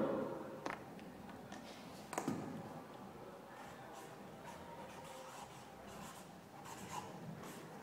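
Faint scratchy strokes of writing on a board during a lecture, irregular soft taps and rubs spread over several seconds against a quiet room background.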